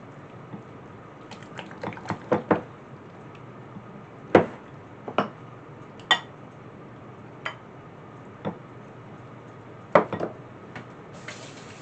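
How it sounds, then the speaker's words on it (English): A spoon stirs acorn squash muffin batter in a bowl, making irregular clinks and taps against the side, with quiet gaps between them. "me get a spoon and get this mixed up."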